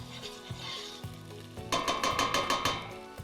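Tomato paste fries in a pan while a utensil stirs it, with soft sizzling and then a run of rhythmic scraping and tapping against the pan in the second half.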